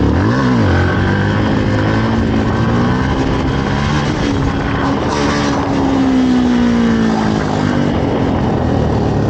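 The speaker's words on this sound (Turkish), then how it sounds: "arka frenle motoru kasıp devreci bir anda salıyorum." A Yamaha WR125X supermoto's engine held at revs against the rear brake, then the clutch dumped so the note swells and climbs, loud and close, with a steady rumbling drone throughout.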